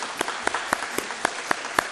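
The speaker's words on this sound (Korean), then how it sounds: "큰 박수로" A church congregation gives a short burst of applause welcoming a pastor, with sharp, evenly spaced claps sounding moderately close and fairly sparse.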